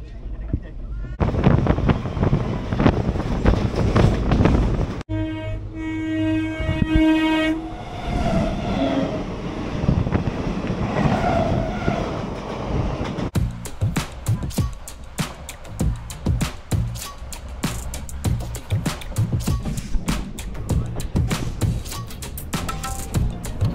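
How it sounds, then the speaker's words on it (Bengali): The 22387 Black Diamond Express, running from Kolkata toward Dhanbad, rumbles and clatters steadily on the rails, with a sustained horn blast early on and muffled voices at times beneath the running noise. "আমাদের ট্রেন ছেড়ে দিয়েছে"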